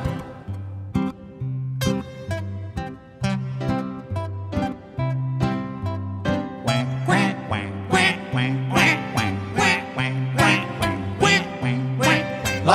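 Quack-like duck calls run in a steady rhythm through a bouncy children's song, sitting over a repeating bass line and plucked accompaniment from start to finish.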